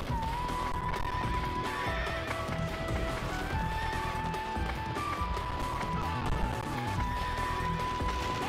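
Horse in the Sengoku Basara: Samurai Heroes video game, whinnying over a dense bed of hoofbeats, clashing and battle noise, steady and moderately loud throughout.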